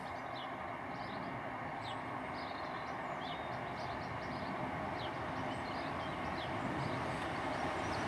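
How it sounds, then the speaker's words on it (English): A steady, loud rumble of a delayed Northern passenger train, unit 155342, arriving at Selby or Howden station, continuous low roar with faint high squeals from wheels on the rails. "coming in now, slightly late, is the delayed 1628 Northern train service heading to Hull"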